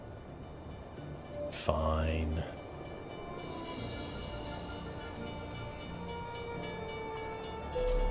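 A train passes near a road in rural Iowa, heard as a loud low rumble and horn-like blast for about a second amid steady driving noise inside a car, with a voice speaking briefly.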